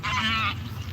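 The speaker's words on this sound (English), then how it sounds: "Geese just taking off there." Geese honk close and fairly loud as they take off during a morning walk, a brief burst of overlapping calls over low rumbling background noise.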